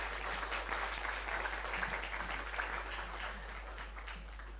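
Applause from an audience greets an MOU signing ceremony, a faint, steady patter of many hands clapping at a distance, sustained over a low constant hum with no speech.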